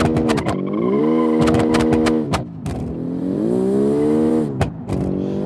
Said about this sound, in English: It just spins out the wheels when the turbo kicks in.